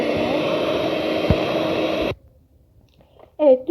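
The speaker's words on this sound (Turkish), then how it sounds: "düşük devirde çalıştırdıktan sonra yüksek devirde çırpıyorum 1-2 dakika kadar" An electric mixer whisks soufflé batter at high speed, a close, steady whirring buzz that runs for about two seconds and then cuts off abruptly, followed by quiet and a short spoken voice.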